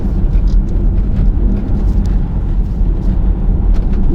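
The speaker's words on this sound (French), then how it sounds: "tu as le son du 5 cylindres qui est absolument magnifique." The five-cylinder engine of a Cupra Formentor VZ5 drones deep and steady under way, a low continuous rumble heard from inside the car with no talk.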